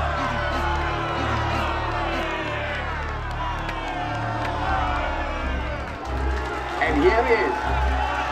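Crowd in a boxing arena at a title bout, a continuous roar with cheers and whoops swelling near the end, under an announcer talking.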